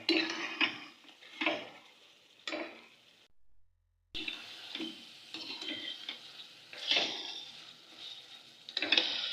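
Half a kilo of chicken for a shalgam (turnip) curry is stirred and sautéed in a pot: irregular scraping and clinking of a spoon against metal over a soft sizzle, broken by a brief silent pause.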